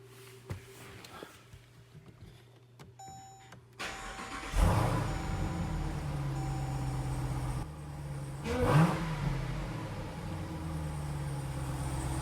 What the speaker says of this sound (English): We're gonna start it up and see if the blower's any louder.